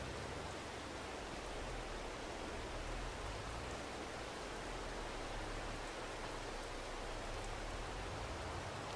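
Steady rain falls in a farming video game, a dense, unbroken hiss that stays even from start to finish with no voices over it.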